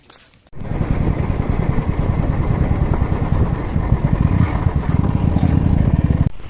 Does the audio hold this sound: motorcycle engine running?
yes